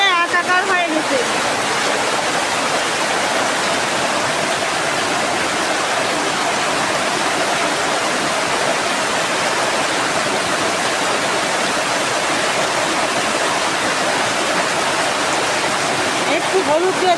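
Heavy rain pours down in a dense, loud, unbroken roar that fills the whole stretch, steady and close, with no voices standing out above it.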